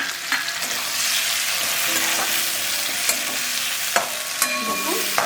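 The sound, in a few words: thinly sliced onions frying in hot oil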